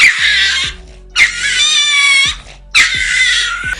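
A frightened dog cries after a cat yowls at it, giving three loud, high-pitched squealing wails about a second each, separated by short gaps and heard close by.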